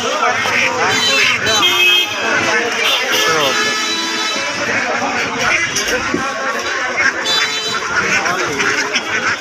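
Domestic ducks quack continuously in a noisy crowd at a poultry market, with people talking and other market bustle mixed in throughout.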